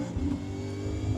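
A V8 Supercar engine revs under throttle in iRacing at Watkins Glen, a steady mid-pitched drone that holds for about a second, close and unbroken, with no talk.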